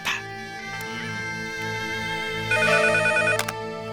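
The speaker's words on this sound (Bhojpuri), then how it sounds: "घंटी जाता।" A telephone rings with a repeating electronic ringtone melody, steady and fairly close, playing alone for several seconds.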